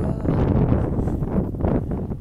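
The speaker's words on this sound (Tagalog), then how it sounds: "Kita niyo yung lakas ng hangin na." Strong wind outdoors blusters loudly and steadily into the microphone, a close rumbling gust heard alone.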